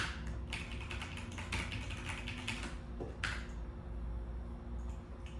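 Keys on a Logitech G413 gaming keyboard clatter in a close, steady run of quick clicks and taps, with no voices.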